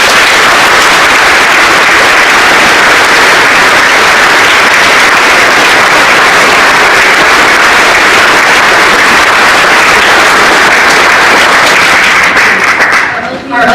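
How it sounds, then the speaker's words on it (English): Sustained, loud round of applause from a school audience at a Veterans Day program, steady dense clapping for about thirteen seconds before cutting off abruptly. "Please join me in giving a heartfelt round of applause again to Jim Risland,"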